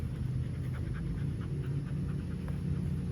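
A dog panting rhythmically nearby during an outdoor training session, quick repeated breaths at a steady pace, fairly quiet, with no talking.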